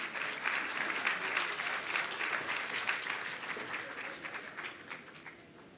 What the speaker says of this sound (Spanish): Les pido un fuerte aplauso para José Castillo, por favor.